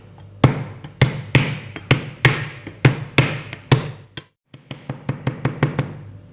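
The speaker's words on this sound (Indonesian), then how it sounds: "Kemudian serainya akan saya geprek aja." Lemongrass stalks are smashed with a series of sharp, close, heavy thuds at an even pace, then a brief pause followed by a quicker run of lighter taps.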